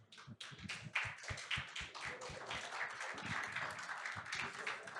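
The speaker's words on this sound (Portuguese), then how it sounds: "Uma salva de palmas, por favor" An audience at an industry conference panel session claps to welcome a guest, with sharp individual claps close by over a fuller spread of applause, lasting the whole five seconds.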